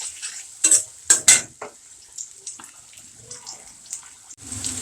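Green chilies, onion and a little garlic fry in a pan for an aloo dum curry, with a few loud clattering stirs early on, then a steady low sizzle with scattered scraping.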